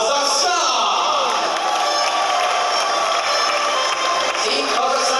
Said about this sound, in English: let's give a big round of applause to Team Kazakhstan.